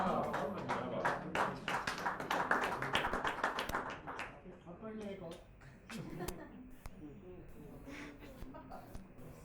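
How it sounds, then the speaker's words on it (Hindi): Audience clapping at a Hindi-Urdu poetry recital: dense, rapid applause for about four seconds that thins into scattered claps, with murmuring and voices underneath. "ये तालियां बजी"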